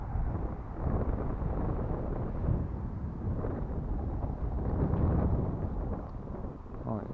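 Gusty wind buffets the microphone at a lagoon where a stunt kite is being flown, a steady broadband rumble that swells and eases in gusts throughout.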